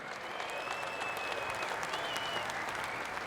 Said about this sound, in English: Everybody give the big round of applause to the History Channel